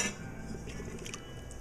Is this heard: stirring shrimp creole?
yes